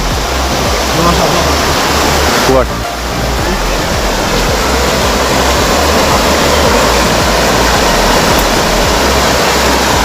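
Water rushes loudly at a crowded, popular spot in Anantnag, Kashmir, a dense, constant roar close by that fills the whole stretch, with a brief dip partway through and a short voice over it.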